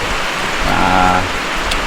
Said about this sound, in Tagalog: kaputi ang langit, kusog ang ulan guys